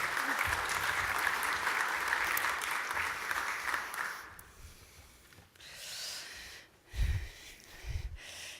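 A workshop audience claps for about four seconds, then the applause dies away into rustling, breathing and a few soft thumps.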